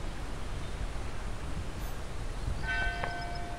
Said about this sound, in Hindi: कहाँ से घंटी कहाँ से बज रही है